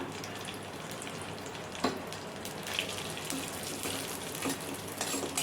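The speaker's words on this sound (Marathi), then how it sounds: "आपण कंटिन्यू हलवत काजू आणि पिस्ता छान असं भाजून घ्यायचं आहे" Cashews and pistachios roast in a spoonful of ghee, a faint steady crackle and sizzle with scattered clicks and scrapes as they are stirred continuously, with no voice.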